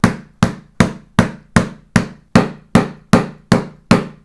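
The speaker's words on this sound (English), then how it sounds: "But for the experts, check out the sound of each racket." Head Extreme One and One Ultralight padel rackets being tapped, eleven sharp, evenly spaced knocks with quick decay, close and loud with no talk.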